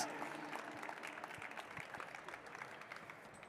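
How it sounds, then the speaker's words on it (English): At an industry panel on electric versus combustion vehicles, the audience claps for the panel guests, a faint, fairly thin patter of applause, distant and steady, with murmured voices mixed in. "Let's give them both a round of applause,"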